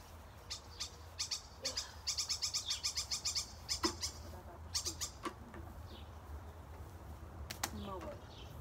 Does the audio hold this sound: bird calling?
yes